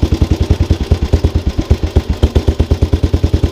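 A 1929 Terrot OS 247 cc motorcycle engine runs steadily up close, its single cylinder firing in an even, rapid chuffing beat with mechanical clatter over the exhaust pulses.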